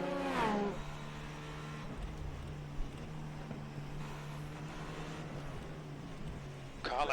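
Race car engine in the iRacing sim during the Petit Le Mans endurance race, a steady loud drone holding pitch under brief talk at the start, with a rising rev at the very end.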